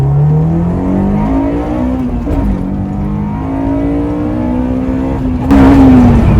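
A Honda S2000 engine revs steadily under load, its pitch climbing in long sweeps, then blips sharply upward during a downshift near the end, loud and close from inside the car.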